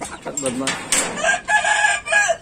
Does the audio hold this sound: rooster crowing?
yes